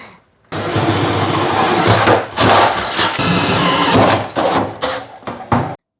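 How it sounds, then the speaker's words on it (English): A drill boring holes in thrift-store cymbals makes a loud, harsh mechanical grinding that starts abruptly and runs for several seconds, with brief pauses and bursts before stopping suddenly. "we just got the holes drilled in the cymbals"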